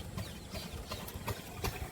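A tractor's engine idles steadily in the rain, a continuous low rumble with a few louder knocks and surges throughout.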